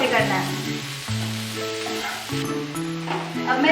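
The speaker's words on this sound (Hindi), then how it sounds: "और हमें इसे हाई फ्लेम में सॉटे करना है।" Vegetables sautéing on high flame in a pan for a homemade pizza topping, a steady loud sizzle up close with faint stirring, while someone talks over it.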